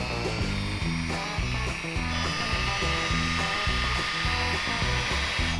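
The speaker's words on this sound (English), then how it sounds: "we're finishing up the final sanding on Aiden's truck." A power sander whines steadily and loudly close by on a scrap-yard Chevy truck's paint, with a sustained high buzz and a droning hum running continuously throughout.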